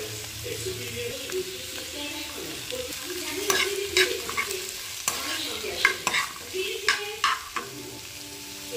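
A steady sizzle of vegetables, including capsicum, frying in a pan, with occasional scraping and clicking as they are stirred.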